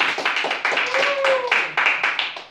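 A crowd claps at a sport shooting award ceremony, a short burst of applause heard close by, with a voice speaking over it partway through.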